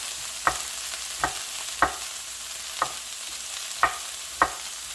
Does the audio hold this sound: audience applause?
no